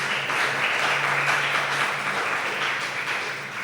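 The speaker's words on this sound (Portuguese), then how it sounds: "dá uma salva de palmas para o Senhor Jesus" Church congregation applauding for Jesus during a service, a steady wash of clapping that holds evenly and fades a little toward the end, with a faint low tone underneath.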